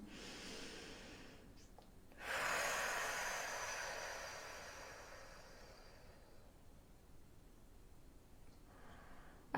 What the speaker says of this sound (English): Taking a deep breath, inhale.